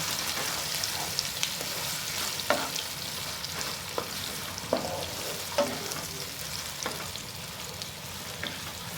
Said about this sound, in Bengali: পেঁয়াজটাকে ভালো করে তেলের মধ্যে একটু ভেজে নিচ্ছি